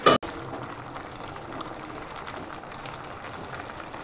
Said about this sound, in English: bubbles.